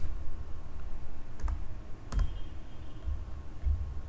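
Computer keyboard keys clicking during Python programming, heard as two or three short, sharp, fairly faint clicks spaced apart over a low room hum, with no talk.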